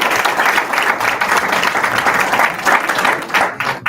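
A crowd applauds an athlete at a baseball signing day, dense steady clapping that runs loud and continuous for several seconds before briefly dipping at the end.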